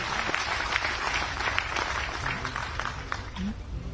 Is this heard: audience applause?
yes